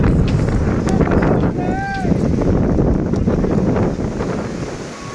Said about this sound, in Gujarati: પવનની સુસવાટા બોલાવે છે કારણ કે બહુ પવન છે